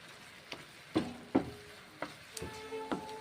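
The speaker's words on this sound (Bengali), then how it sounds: "জল দেওয়ার পরে নেড়ে চেড়ে ম্যাগিটা রান্না করে নিচ্ছি" Maggi noodles cooking in a pan with a little water are stirred in a few distinct, quiet scraping strokes over a faint simmer.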